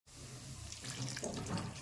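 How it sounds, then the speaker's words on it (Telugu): Water poured into a kadai holding tomato pieces, a little tamarind and salt for tomato pepper rasam, a continuous close splashing rush that starts abruptly and stays steady throughout. "వాటర్ పోసుకొని"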